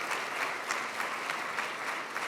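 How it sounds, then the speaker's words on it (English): Audience at a December breakfast forum gives a big round of applause, steady dense clapping filling the room throughout with no speech over it. "give her a big round of applause"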